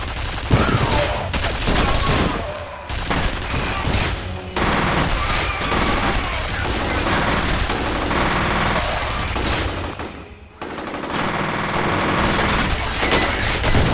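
A mounted turret in the F.E.A.R. video game fires in dense, sustained bursts of rapid gunfire, loud and close, with short pauses between volleys and chaotic combat noise throughout.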